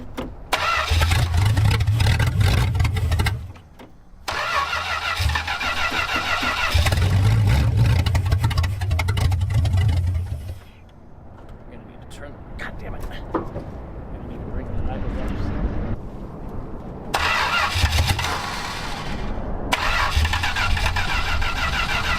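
A junkyard Chrysler 383 V8 with an untested Edelbrock 750 carburetor cranks and catches in repeated bursts, roaring loudly, stumbling, cutting out and restarting, close by, with voices in the pauses.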